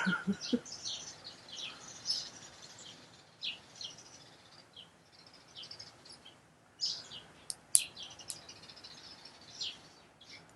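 Birds outdoors chirp and squabble in scattered, faint bursts of high tweets, with sharper calls here and there against quiet background air.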